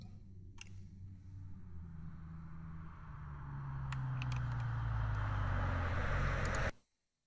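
A truck sound effect from a transportation sound library: a low engine rumble that grows louder and rougher over several seconds, with a few faint clicks and rattles, before stopping abruptly; no voices are heard.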